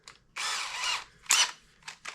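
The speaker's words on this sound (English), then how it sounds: "I have another cordless drill here that's brushless, and it's a little bit shorter" A brushless cordless drill runs in short bursts while working on a Jeep Cherokee: a close, high whir lasting most of a second, then a sharper brief burst and two quick blips.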